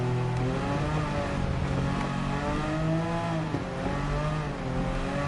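Porsche Cup race car at 650pp in Gran Turismo 7, its engine droning loud and steady at high revs with rising and falling pitch as it accelerates, continuous throughout with no talk.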